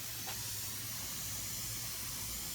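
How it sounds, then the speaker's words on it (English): A spray bottle lightly mists water over microgreen seeds laid on biodegradable grow mats, giving a steady soft hiss that runs alone and unbroken for the whole stretch. "Now I'll lightly spray them on top of the grow mats"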